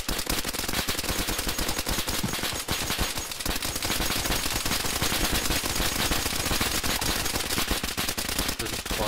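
Dense, rapid automatic gunfire in DayZ, aimed at a giant dinosaur, runs loud and nearly continuous with sharp cracking bursts throughout.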